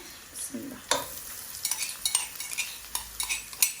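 Garlic goes into a pan of frying onions, sizzling steadily while a utensil scrapes and stirs in repeated strokes, close and fairly loud, with no talking.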